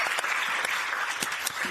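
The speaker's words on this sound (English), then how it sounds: "Big round of applause to the speakers." Audience at a European cosmetics industry conference clapping for the speakers, steady dense applause from a crowd filling the room throughout, close and moderately loud.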